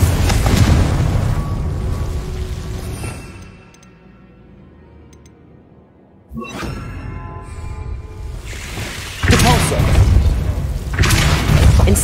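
Booming fire-spell blasts from the Hogwarts Legacy video game, loud bursts at the start and again near the end with a quieter lull between, mixed with game music and effects.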